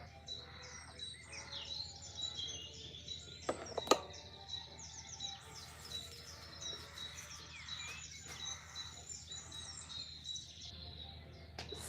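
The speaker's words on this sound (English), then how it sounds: "are captive in my aviary. I've had them different bird species flown in from all over the world." Birds of various species chirping in a captive aviary: dense, continuous high twittering and tweets from several birds at once, fairly faint and even, with a steady low background hum and one sharper call standing out.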